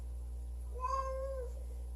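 A single cat meows once, a clear tonal mew lasting under a second, fairly close over a steady low hum in a room where fish tanks are being moved.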